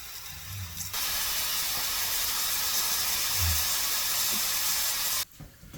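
Chicken of the woods mushroom frying in a pan gives a steady, loud sizzling hiss that starts abruptly, holds evenly for several seconds, then cuts off sharply, with no voices.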